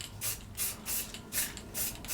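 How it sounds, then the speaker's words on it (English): Light bursts of black spray paint hiss from an aerosol can onto a newly carved material, five short, evenly spaced puffs close by with quiet pauses between. "Really light touch with that black spray."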